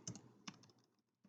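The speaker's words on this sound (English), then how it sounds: "see how I just typed this right here?" Computer keyboard keys tapped while entering data into a spreadsheet cell, a few quick close clicks in short bursts with pauses between, quiet and alone.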